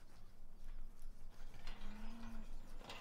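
Cattle lowing in Farming Simulator 17 on an Italian farm, a single drawn-out moo rising near the middle over a steady background of barn ambience and mechanical noise, moderately quiet.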